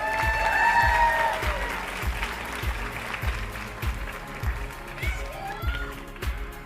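Steady applause from a pageant audience cheering award winners at a teen beauty competition finals in New York, continuous clapping with a faint voice briefly over it near the start.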